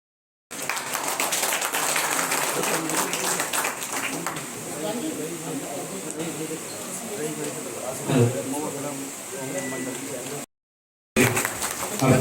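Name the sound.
audience clapping to welcome a speaker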